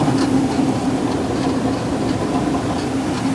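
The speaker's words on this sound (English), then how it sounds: "Cable car ride number 2." Steady, loud mechanical rumble and rattle of a cable car ride on a backcountry trip in Canada, continuous and unbroken with no voices.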